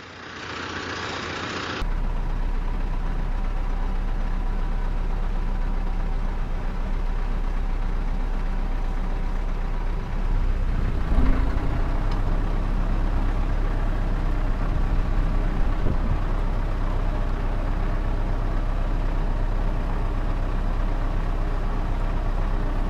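A T-40AM tractor rigged as a slurry tanker runs at a steady idle close by, a constant low diesel rumble that holds for the whole stretch with a slight surge around the middle.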